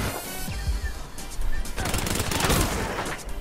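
Sustained automatic gunfire in Call of Duty: Black Ops 3, loud rapid bursts and overlapping shots filling the whole stretch, with brief whizzing sounds mixed in.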